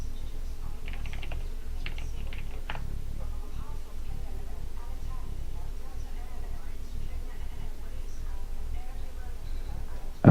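Someone types on a computer keyboard, with soft, irregular keystrokes clustered in the first few seconds over a steady low background hum.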